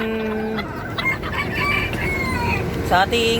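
A bantam rooster clucks and gives a loud, close crow amid other chicken calls on a farm, with livestock sounds in the background and no clear speech.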